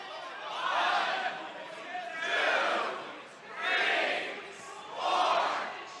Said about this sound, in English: We got some crowd action out there as well, Kyle.